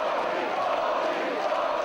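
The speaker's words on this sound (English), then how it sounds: "listen to the crowd" A wrestling crowd roars steadily at a Universal Uproar show in Coventry as Mick Foley lands right hands, a dense, continuous wash of cheering and shouting with no breaks.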